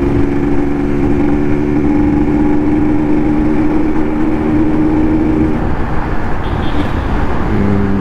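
A faulty MP Baba 47 motorcycle engine runs loud and close with a steady, rough droning hum, a constant low rumble holding even throughout amid road noise.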